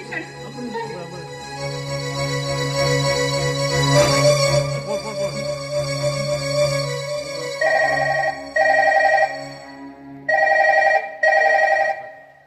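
Sustained musical tones give way to a telephone ringing in two loud double-ring bursts, electronic and close.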